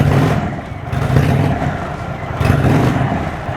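An Indian Chief motorcycle switched into tour mode, its engine revving loud and close in two swelling pulses with a rough, throbbing rumble.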